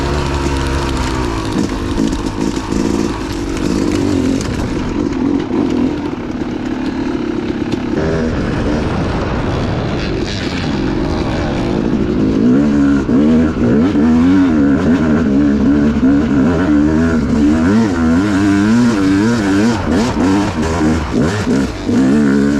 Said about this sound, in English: Bike just sounds so good up those climbs.